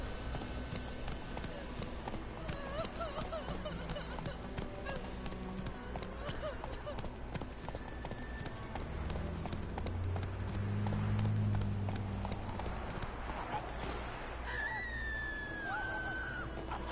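Roach, Geralt's horse in The Witcher 3, gallops with steady clip-clop hoofbeats over game music and ambience, a whinny rising briefly near the end while voices talk at points.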